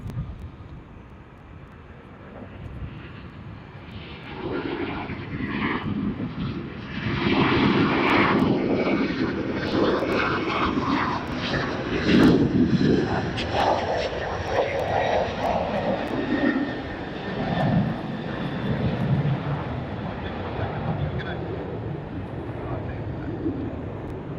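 A jet airliner landing on runway 34 left at Sydney Airport, a broad steady roar rising and holding for most of the stretch before easing, heard from a distance with some wind buffeting on the microphone.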